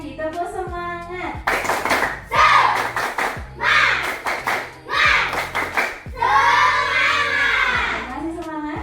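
A class of children repeats the tepuk semangat chant, loud rhythmic group clapping in quick patterned bursts mixed with shouted words, following a teacher's brief spoken cue.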